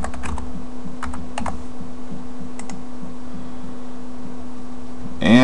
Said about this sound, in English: I'm going to go ahead and type in that password